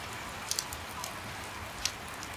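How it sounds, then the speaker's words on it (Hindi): Rain falling before dawn outside a home during the rainy season, a steady soft hiss with a few faint drip ticks, quiet and even throughout with no voices. "बट बारिश आ रही है गाइस"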